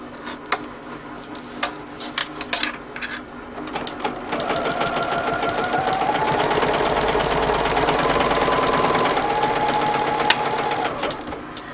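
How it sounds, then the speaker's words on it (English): A sewing machine stitches repaired bag handles with a 1/4 inch foot, starting with a few short bursts and then running in a long, loud, steady whir close by. "Sewing it at about 1/8 of an inch from the edge."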